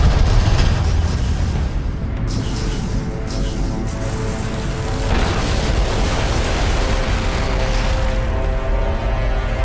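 In the Homeworld: Deserts of Kharak video game, battle vehicles are destroyed with loud, rumbling explosions and booms layered over continuous combat noise, dense and sustained.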